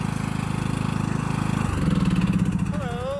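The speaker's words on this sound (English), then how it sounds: "Here comes somebody on a lawnmower." A lawn mower engine chugs steadily nearby in a country cemetery, its rapid pulsing drone rising slightly as it draws closer.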